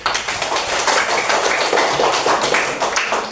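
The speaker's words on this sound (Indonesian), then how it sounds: "Tepuk tangan buat semuanya." A burst of applause from a group of primary school children, dense rapid clapping filling the room for a few seconds at steady loudness.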